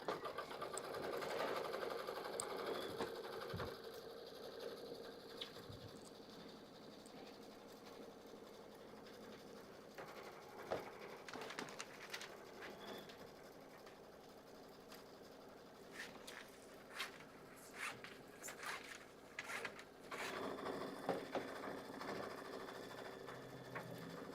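A quilting machine runs steadily for a long stretch, sewing tack-down and quilting stitches at once with a continuous, fairly quiet mechanical whir and rapid needle clatter.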